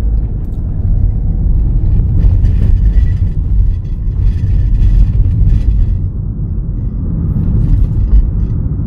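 Car pulling away from a stop during a road driving test in Busan, a steady loud low engine rumble and road noise building as it moves off, no talking.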